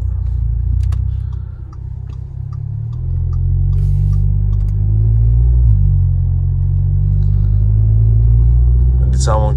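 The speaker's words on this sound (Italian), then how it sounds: "se la mettiamo in comfort, la macchina è più silenziosa, il volante più morbido." Audi S3 8V engine running in comfort drive mode, a steady low rumble heard from inside the car, with someone talking over it and a few faint ticks.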